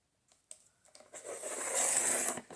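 A photo cover for a notebook is cut, giving faint scratchy, papery scraping and clicks that build into a steady rasp, close up and quiet with no talk.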